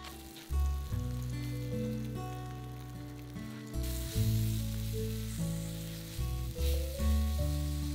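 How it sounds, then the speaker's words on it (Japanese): Roasted apples sizzling in melted butter in a frying pan, a loud continuous close hiss that swells and crackles steadily throughout without any talk. "バターを入れて火にかけ、溶けたら焼いたリンゴを加えます。"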